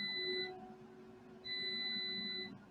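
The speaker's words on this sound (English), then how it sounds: "I heard the beeping, and it sounded like it was coming from my house" An electronic alarm near a building under construction gives two steady, high, tonal beeps, each about half a second to a second long, moderately loud with a quiet gap between.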